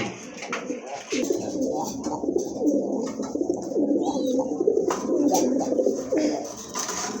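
Pigeons coo steadily and low at a bird market where pairs of pigeons are sold, a continuous layered murmur of several birds close by, with market noise faintly underneath.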